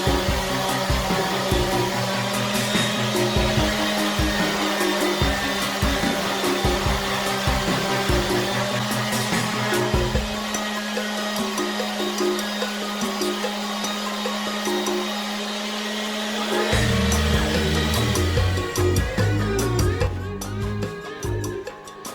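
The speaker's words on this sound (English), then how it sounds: "So I'm just going to sand the cutting surface with 400 grit sandpaper and my palm sander." A palm sander with 400 grit sandpaper working a wooden cutting surface gives off a loud, steady motor whine and buzz. It eases off midway, then runs again near the end, with no voices.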